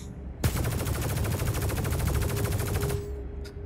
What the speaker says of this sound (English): Looks like we can fire inside the ship as well.